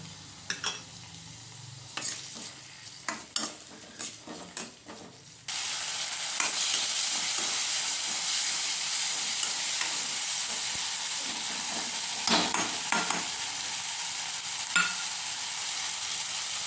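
Onion, tomato and curry leaves fry in oil in a pan for bread masala. Scattered spoon-stirring clatter gives way to a loud, continuous close sizzle, with occasional scrapes of stirring.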